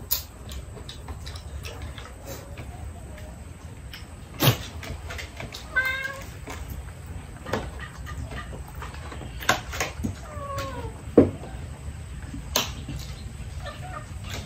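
Well-fed house cats meow a few times in a kitchen, with short rising calls near the middle and end over steady low room noise, light clicks and taps.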